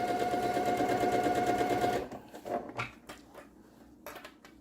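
A sewing machine stitches quilt fabric in a steady, close whirring run for about two seconds, then stops, leaving faint scattered clicks and soft handling noises.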